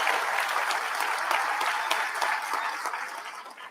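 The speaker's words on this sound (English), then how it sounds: "So give them a big round of applause for that." Audience at a Texas gubernatorial forum claps in a fairly quiet, crisp burst of individual hand claps that gradually tapers off over a few seconds.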